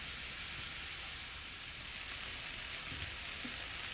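Onions, sweet peppers and celery sauteing in a pan for caponata, giving a steady, even hiss of frying that stays faint and constant throughout, with no voices.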